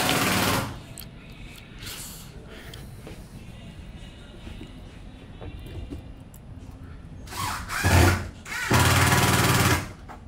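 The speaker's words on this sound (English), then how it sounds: "While Jeff is screwing that in" Parts of a Sunglass Hut display case are fastened with a power screwdriver, heard as short, close whirring bursts separated by quieter gaps, ending with a longer run of whirring.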